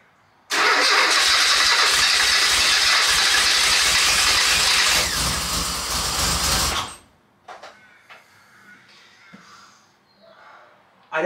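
Austin Metro engine after a gearbox rebuild, cranking and catching into a loud, rough-running roar for several seconds before dying away, followed by quieter knocks and a voice speaking.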